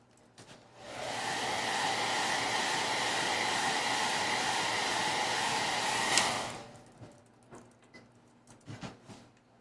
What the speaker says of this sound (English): I'm going to blow dry that, and we're going to get another coat